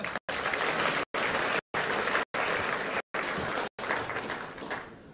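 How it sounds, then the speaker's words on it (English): Conference audience at EGX Rezzed 2015 applauding, a dense steady wash of many hands clapping for about five seconds, broken by short edit gaps and fading out at the end. "So, a round of applause for Bertie, please"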